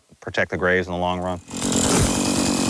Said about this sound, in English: I brought my chainsaw out. We cut and trimmed some trees, took a couple trees down